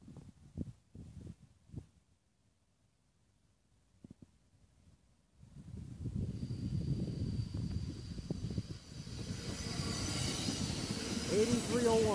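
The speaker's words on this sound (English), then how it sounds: "there goes another train, Amtrak 536" Amtrak 536 passing at Elvas Junction, starting with a few faint clanks, a quiet gap, then a steady loud rumble and rush of rail cars with a thin high whine for the final six seconds.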